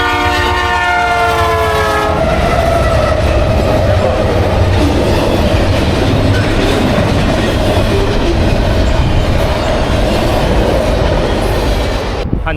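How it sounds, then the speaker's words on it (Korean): A long freight train rumbles steadily past on lakeside tracks in Canada, loud and close, with a horn sounding briefly at the start before the continuous roar of the cars. "와, 기차."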